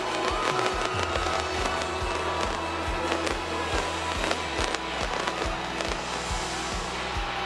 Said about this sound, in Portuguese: É a queima de fogos na praia, numa das praias mais famosas do Brasil